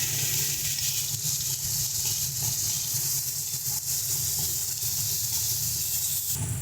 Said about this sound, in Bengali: সমস্ত কিছু দিয়ে ভালো করে আমরা মশলাটাকে কষিয়ে নেব।